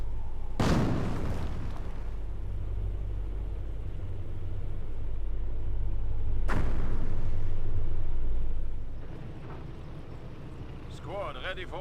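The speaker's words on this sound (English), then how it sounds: "great incendiary mortar there. Direct hits the Bren squad" Incendiary mortar shells in the WWII strategy game Company of Heroes: two loud, sharp blasts a few seconds apart, each rolling into rumbling battle ambience over a low engine drone, with a caster talking throughout.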